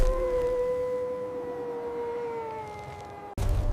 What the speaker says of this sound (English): A howl.